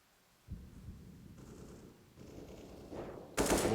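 Automatic rifle sprays and gunshots crack out during a Counter-Strike match on the Dust2 map, a loud burst ringing out near the end over softer scattered game sounds.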